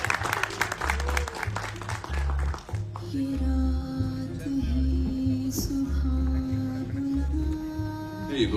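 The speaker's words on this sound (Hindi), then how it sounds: "जोरदार तालियां, कम ऑन यार, we can make some noise." An audience at a live movie trailer launch applauds an actress, the clapping strongest at first and then settling under rhythmic music and a brief spoken phrase.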